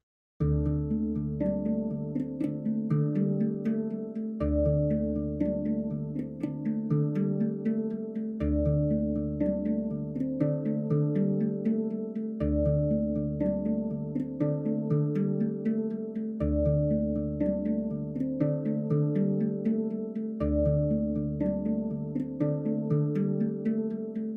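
Resonant, bell-like virtual hang drum tones from a Kontakt instrument ring out in a steady repeating pattern, layered metallic notes bouncing between textures with soft decays.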